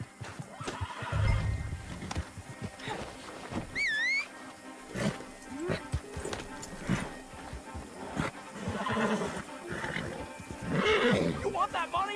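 A horse in the video game Red Dead Online neighs and whinnies several times, with hoof clip-clops and game ambience, heard under intermittent talking.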